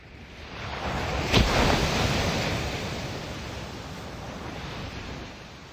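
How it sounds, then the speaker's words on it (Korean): Strong ocean waves crash on the shore at night, a broad roaring surf that swells with one sharp break early on and then washes back in a long, steady hiss, heard alone. "두꺼운 철판으로 만든 커다란 드럼통을 울리는 것처럼 억센 파도 소리가 들리는 바닷가"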